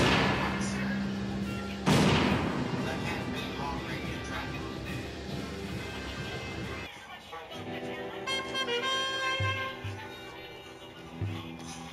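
Gunshots in the Western game Secret Ponchos: a dense, loud burst of firing and booms for the first several seconds, then a quieter stretch of game sounds and music with occasional isolated shots and voices talking.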